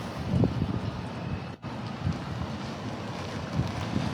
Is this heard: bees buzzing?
no